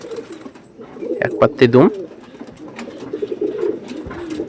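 Pure black-marked flying pigeons coo in soft, throaty bursts, strongest in a close cluster mid-way, while someone talks over them throughout.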